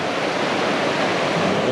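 Rushing water in Green Mountain National Forest, Vermont, a steady broadband roar that runs unbroken and fairly close throughout, with no voices.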